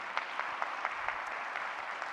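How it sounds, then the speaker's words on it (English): An audience applauds campus police officers (MUPD) during a university president's spring update, a steady, fairly quiet patter of many hands with a few sharper individual claps standing out. "We got to give them a big round of applause."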